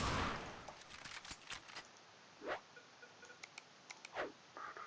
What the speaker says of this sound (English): It burst fires, shooting 3 shots every single time you pull the trigger